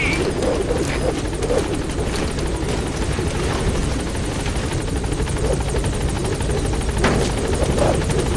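Support helicopter B-Quad from Metal Gear Solid V arrives at a landing zone, its rotor and engine roaring in a loud, steady, close drone throughout.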